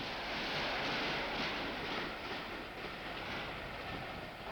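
British Rail InterCity 125 high-speed train running at speed, a continuous loud rushing roar with rhythmic wheel clatter on the rails and a faint high whine, steady and close throughout.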